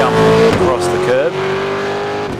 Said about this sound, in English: and is that noise coming from Worrell's car?